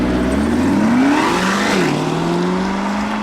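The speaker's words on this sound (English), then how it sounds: "this is what the car sounds like in tour mode when you're just driving regular schmegular" A Corvette C8 drives in tour mode at normal speed, its engine droning continuously from inside the car as the pitch climbs, dips briefly and then settles into a steady hum.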